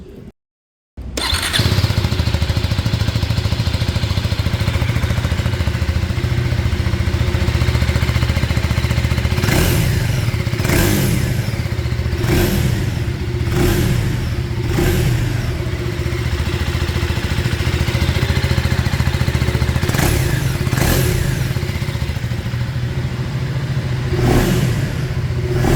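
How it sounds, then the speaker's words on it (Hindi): A 2025 KTM Adventure 390 X Plus motorcycle starts up and idles with a steady exhaust note, then is revved in a series of sharp blips spaced a few seconds apart, loud and close, with no talk. "और एक बार मैं आपको इसकी एग्जॉस्ट साउंड सुना देता हूँ।"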